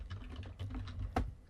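Fingers type on a computer keyboard in a quick, uneven run of soft keystrokes, close and quiet, with one sharper clack near the end.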